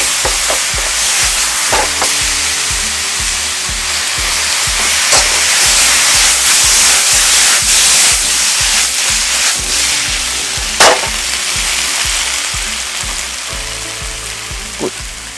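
Sauce sizzles loudly in a hot pan for Mongolian beef, a dense continuous hiss with steam, broken by scattered clicks and spatters.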